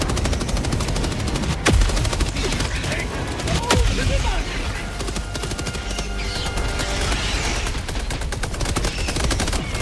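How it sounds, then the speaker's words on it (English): A sentry gun in the video game Helldivers 2 fires rapid, continuous machine-gun bursts, loud and close, with a couple of whooshing streaks overhead and faint game voices mixed in. "Requesting sentry. Calling down a sentry."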